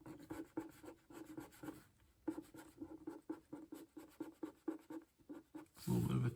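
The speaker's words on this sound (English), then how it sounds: "I'm going to apply pressure with my left hand as I'm rubbing here with my right hand." Repeated rubbing strokes across the paper of a heavily soiled Amazing Spider-Man 62 comic book during dry cleaning, a steady scratchy back-and-forth rhythm that pauses briefly midway, close and fairly quiet, with no talking.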